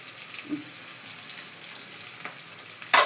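Amaranth leaves and mango cook in a pan with a faint, steady sizzle, broken by a couple of soft clinks and a louder scrape near the end.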